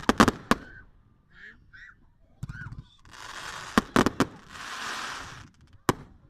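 Several sharp, loud fireworks bangs go off in quick clusters at a display in Skegness, with crackling hiss between blasts and a few brief voices in the background.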